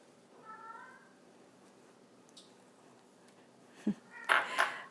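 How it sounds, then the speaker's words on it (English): A cat meows softly in the background a couple of times, faint and somewhat distant, with some clattering kitchen noises near the end. "You can probably hear my cat in the background."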